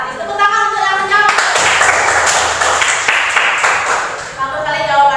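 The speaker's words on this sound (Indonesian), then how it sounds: "Tepuk tangan untuk yang menjawab." A class of students claps in a school lesson, a dense burst of applause lasting about three seconds, with voices heard before and after it.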